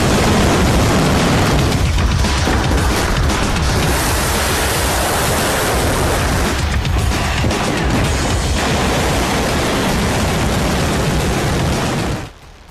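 A North Korean Hwasong-19 intercontinental ballistic missile test launch: a loud, sustained broadband roar of rocket exhaust rumbling continuously for about twelve seconds before cutting off abruptly, with no voices.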